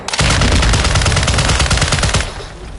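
Rapid bursts of loud gunfire and explosions from an online shooter game, a dense rattling barrage that runs nearly continuously before easing off at the end.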